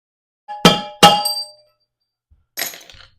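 Hammer striking metal while knocking a bearing race out of a Honda Goldwing GL1500: two sharp ringing clangs in quick succession, a pause, then a third duller strike, close and alone.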